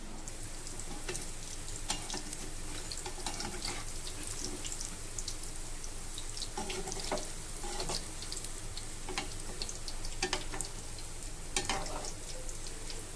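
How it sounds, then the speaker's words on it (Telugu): Tempering spices sizzling in hot oil for a red chutney, a steady close hiss with scattered pops and spits throughout, no voices. "ఇప్పుడు దీంట్లో తాలింపు వేస్తాం."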